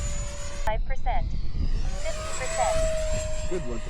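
Model airplane at an airfield during a crosswind landing, its engine whine rising and falling in pitch as it passes, with people talking over it outdoors.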